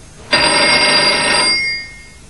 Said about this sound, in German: mit ihrer Schwingung das Telefon zum Läuten bringen